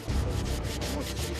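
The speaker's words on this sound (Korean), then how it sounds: "일반적인 사포질로는 때가 벗겨지지 않을 경우 물로 닦아가며 사포질을 해야 한다" Old hanok timber, about eighty years old and caked with grime, being sanded by hand with sandpaper: close, loud rhythmic rubbing strokes, several back-and-forth passes in steady succession.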